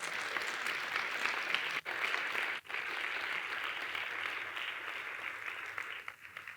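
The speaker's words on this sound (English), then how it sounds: "A big round of applause." A conference audience applauds in a long, even burst of many hands clapping, holding steady for several seconds before thinning out near the end.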